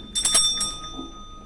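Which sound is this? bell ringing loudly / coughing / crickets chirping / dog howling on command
bell ringing loudly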